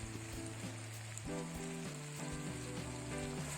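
Vegetables and fried chicken frying in a pan for devilled chicken, a steady soft sizzle with light stirring clinks, quiet and without talk.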